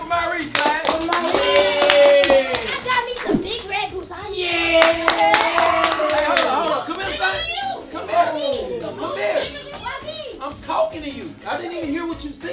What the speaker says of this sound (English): clap it up for Marie, guys